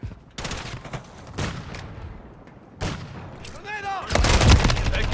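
Heavy gunfire during a Call of Duty Modern Warfare 3 Ground War match, spaced loud shots and booms building into a dense, close volley at the end, with a brief voice in between.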